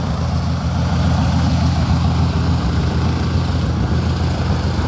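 A small airplane engine runs steadily at close range, a loud continuous drone with a rough low throb that holds unbroken throughout, no voices over it.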